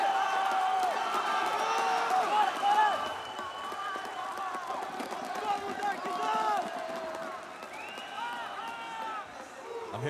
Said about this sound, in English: I'm hearing the crowd, Jake.